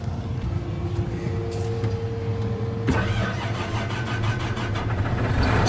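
Tractor engine cranking and catching on a farm, then settling into a steady running idle, close and fairly loud with no talk.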